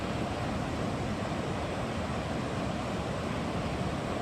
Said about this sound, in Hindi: पूरा पुल के ऊपर से पानी चल रहा है भाई।